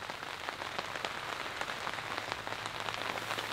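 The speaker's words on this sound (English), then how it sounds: "As you all can hear, it's raining pretty good at the moment." Steady rain pattering on a large dome tent's taut fabric, dense and continuous with scattered sharper drops, fairly close and even throughout.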